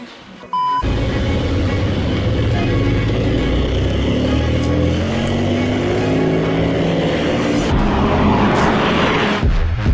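A Porsche 911 engine on the Portimão circuit starts up abruptly after a half-second of quiet, then holds a loud, close, steady drone whose pitch climbs gradually across ten seconds.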